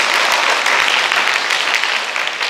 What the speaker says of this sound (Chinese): 让我们为志玲拍拍手，